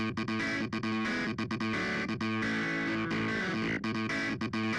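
A clavichord plays a riff through heavy distortion, with a gritty, buzzing tone and choppy rhythmic breaks, loud and steady.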